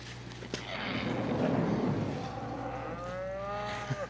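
A cow lets out a long, low moo that swells and then trails off, close by, with faint rustling and thuds around it.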